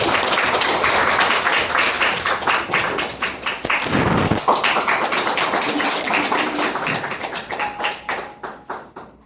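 Warm applause from a lecture hall audience welcoming a nutrition and biochemistry lecturer, loud and close at first, then thinning into scattered individual claps near the end.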